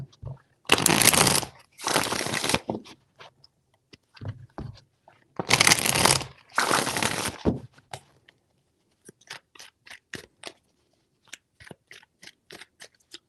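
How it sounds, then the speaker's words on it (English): Tarot cards being shuffled up close in two pairs of loud riffling bursts, each a second or so long, followed by a scatter of softer taps and card clicks as the deck is handled. "Three shuffles."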